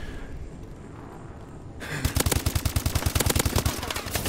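Video game gunfire aimed at a cave: after a quiet stretch a rapid automatic burst erupts, sharp evenly spaced shots firing loud and continuous to the end.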